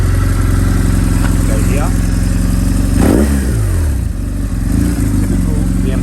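A BMW R1100S Boxer Cup motorcycle's boxer twin idles with a loud, throbbing rumble, then revs sharply once near the middle and settles back, while someone talks briefly over it.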